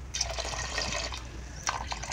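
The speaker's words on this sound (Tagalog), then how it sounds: "lagyan na natin ito ng gata" Coconut milk pours into cooked glutinous rice in a pot, giving a soft, steady liquid trickle with a few brighter splashes near the end, close and moderately quiet with no talking.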